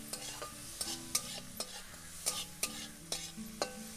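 Onion and tomato pulao ingredients being stirred in a pan, a repeated rhythm of sharp spoon scrapes and clinks against the pan over a quiet sizzle, close and fairly faint, no talking.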